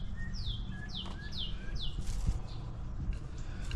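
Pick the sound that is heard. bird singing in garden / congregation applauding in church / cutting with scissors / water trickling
bird singing in garden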